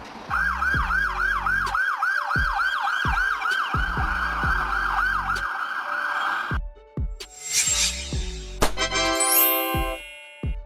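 An Irish ambulance siren, as on a Mercedes-Benz Sprinter, Ford Transit or Volkswagen Crafter, wails in a fast rising-and-falling cycle repeated a dozen times, loud and close, then cuts off and gives way to other shifting sounds.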